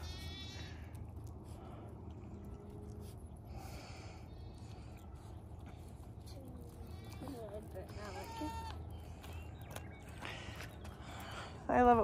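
Boer goats bleating on a homestead, several short, wavering calls scattered through a quiet farmyard, some close and some further off, while people talk softly in between.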